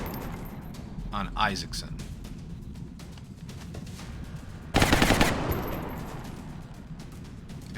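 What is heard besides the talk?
suppressing gunfire in the video game XCOM Long War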